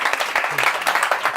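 Brief applause at an Armenian singing performance, with a crowd clapping in quick, uneven bursts and a voice talking over it.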